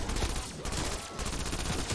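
Rapid, continuous automatic gunfire from a PPSh with a 55-round drum magazine in a Zombies video game, a dense, loud stream of shots filling the whole stretch with no pause.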